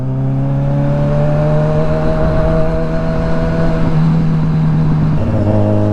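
Loud, close Kawasaki Ninja 1000 SX engine drone through an Orion exhaust with a cut mid-pipe, a steady low exhaust hum and rising, shifting pitch as the throttle changes, continuous with no talking.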